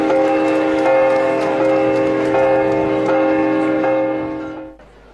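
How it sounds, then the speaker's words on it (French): Huge bronze church bell struck in small strokes with its clapper held by hand, a loud sustained ringing tone with several repeated strikes that swell and decay before cutting off abruptly. "On commence par frapper par petits coups la robe de la cloche avec le battant tenu à la main."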